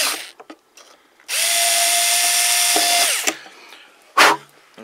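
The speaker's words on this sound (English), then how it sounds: "Now I can drill my last two." A power drill boring holes in a balsa-and-plywood Kadet LT-40 model airplane, one loud steady whir of about two seconds that winds down, with small handling clicks before and a short burst after.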